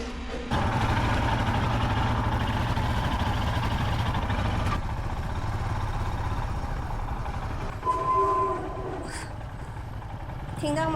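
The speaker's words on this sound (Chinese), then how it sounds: "听到吗？这个刹车的声音" A motorcycle's rear brake gives off a loud squeal over steady road and engine rumble. A sharp tonal screech stands out near the end.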